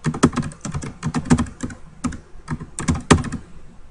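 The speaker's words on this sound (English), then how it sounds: "Here's where you can type in an email address." Rapid, close clicking of keys on a computer keyboard as an email address is typed in, irregular bursts of crisp taps with short pauses between.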